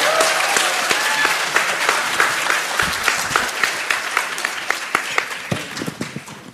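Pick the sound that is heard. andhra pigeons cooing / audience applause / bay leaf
audience applause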